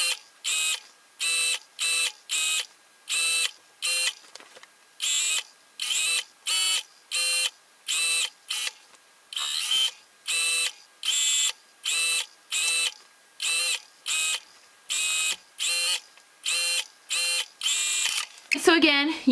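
A sewing machine stitches right along the folded edge of a skirt, running in short, regular bursts with clean stops between them, repeated steadily and close up.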